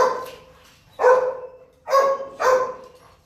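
A German Shepherd at an animal shelter barks four times, loud and close, with short gaps and the last two barks coming quickly together.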